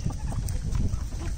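Big white farm birds, likely geese or chickens, clucking and honking close by in a steady, busy jumble on a sunny morning as they are let out of their pen.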